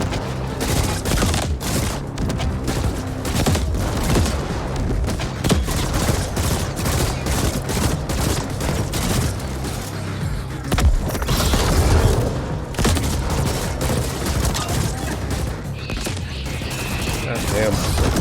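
Exploding spiders in the game Ascent burst amid dense, continuous gunfire and booming blasts that stay loud and busy throughout, with a voice speaking over the din.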